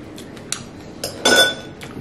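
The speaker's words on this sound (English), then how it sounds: "Gotta mix it good. Get that balsamic vinegar and olive oil all mixed in." Utensils clink and scrape against a bowl while tossing a salad dressed with balsamic vinegar and olive oil, a few light clatters building to a brief louder burst of contact, close and without talk.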